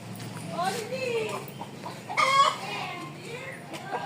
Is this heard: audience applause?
no